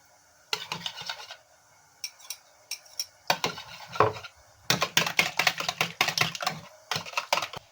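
Rapid clinking of a utensil whisking an egg and yogurt mixture in a bowl, with a spoon of flour added, for yayla soup, in quick bursts separated by short pauses.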